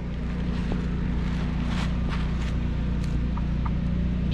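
Steady low droning hum of a backup generator running in self-test mode, continuous and moderately loud, with scattered faint clicks and knocks from work in a shop over it.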